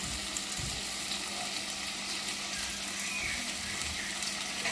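Ingredients sauté in a clay pot over a full high flame for fish curry, giving a continuous dense sizzle with faint watery bubbling and a few soft stirring knocks, with no voices.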